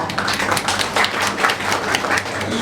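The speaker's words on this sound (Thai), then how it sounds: "ขอเสียงปรบมือต้อนรับเธอด้วยค่ะ" An audience claps steadily to welcome a guest at a Thai wedding ceremony where the betrothal gifts are laid out; dense, even applause continues close by for the whole stretch.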